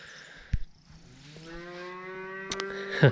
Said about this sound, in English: The little cow's ready for his dinner. He's squalling.